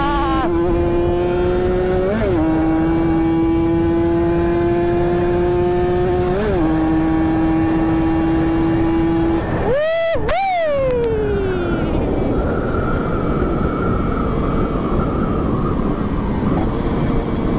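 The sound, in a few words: bored-up Ninja RR racing motorcycle accelerating at full throttle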